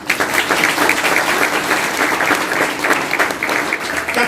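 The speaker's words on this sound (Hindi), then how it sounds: "ताली बजाइए" Sustained, dense applause from a large crowd at a Chhapra RCM seminar, steady and loud throughout with no break.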